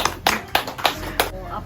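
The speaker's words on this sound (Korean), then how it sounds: "저희 박수 많이 쳐주세요." Several people clap in a small concert setting before a father-and-daughter band performs; a handful of distinct, close claps in an uneven rhythm, with a faint voice briefly underneath.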